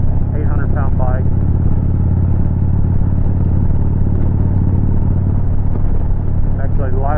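A Kawasaki Vulcan 2000 motorcycle is ridden, its big engine giving a loud, steady, deep rumble with strong wind buffeting, while someone speaks briefly at the start and end.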